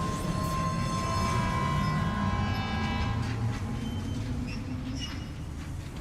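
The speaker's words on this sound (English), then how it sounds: "Start the monorail." A monorail in a video game starts up with a steady, loud rumbling drone and a sustained tonal hum, continuous throughout and slowly easing off near the end, with no talking.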